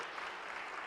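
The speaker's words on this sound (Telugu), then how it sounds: "దేవునికి చప్పట్లు కొట్టి దేవుని స్తుతించండి" A church congregation claps in praise of God, a dense, even burst of applause filling the whole short moment, somewhat distant and soft.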